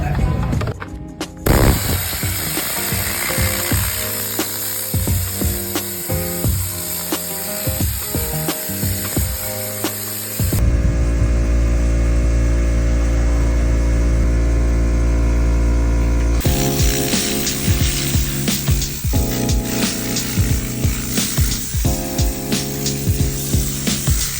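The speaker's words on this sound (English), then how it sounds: "basically what this does is it blows out everything and basically sanitizes and cleans the vehicle" Loud continuous hissing and whooshing air blasts from a tornado air blower cleaning a car interior, with rattling and tapping, changing tone partway through as the nozzle moves around; no talking.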